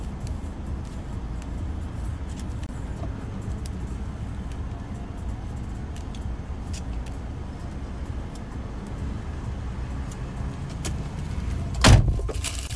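A car door shuts with a sharp thud near the end, after a long stretch of steady low rumble from an idling car engine, with faint jingling keys and no talk.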